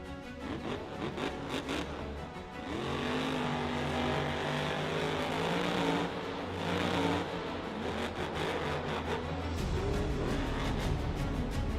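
A real monster truck drives with a loud, continuous engine roar that swells and revs, rising at times and staying heavy and close throughout.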